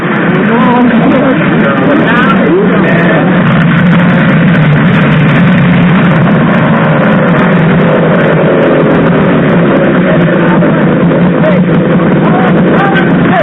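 Old Polaris snowmobile engines roar together at a race start, a loud continuous droning whine with overlapping revving pitches, heavily compressed, with voices mixed in underneath.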